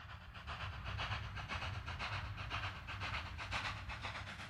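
Steam and diesel trains rumble steadily with rhythmic hissing and chuffing over a low engine drone, heard at a distance on an old, slightly noisy recording.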